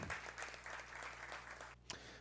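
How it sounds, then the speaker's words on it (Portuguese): Quiet, distant applause rises for a winning bidder at a Brazilian 5G spectrum auction held by ANATEL, a soft steady patter of clapping over low hum that drops out near the end. "Peço uma salva de palmas para a Claro S.A."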